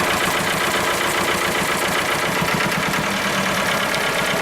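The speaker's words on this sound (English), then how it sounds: "When the engine revs here in a second," A Lister ST2 diesel engine, fitted in a Winget Four/40E dumper, runs with a steady dense knocking clatter, loud and close and continuous, with no talk.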